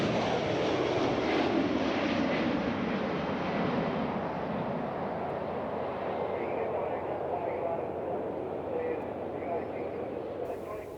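Avro Vulcan jet at an airshow drawing near on its landing approach, a loud, steady broadband roar that fades slightly as it passes, with radio talk from air traffic control over the top.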